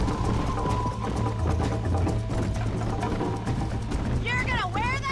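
Galloping horse hooves in Red Dead Redemption beat a rapid rhythmic clip-clop under game dialogue, with a horse whinny near the end.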